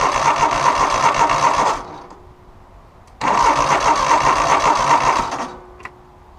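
A Cub Cadet 3000 Series lawn tractor engine cranks over loudly in two long bursts of steady, rapid starter churning, separated by a short quiet pause, with no talking.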